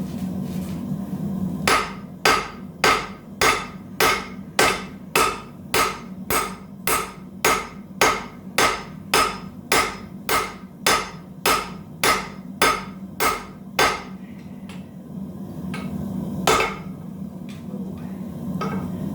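Steady hammer blows strike a hot steel bar with a thick, aggressively tapered end, driving its shank down into an anvil's hardy hole. About twenty-five sharp, ringing strikes land in an even rhythm, close and loud, then a pause and one final blow.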